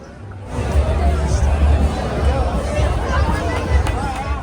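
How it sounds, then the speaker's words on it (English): A large crowd waits at a Disneyland attraction, its dense murmur of many overlapping voices swelling in after a quiet start and staying loud and steady. "As you can see by the large crowd in front of me"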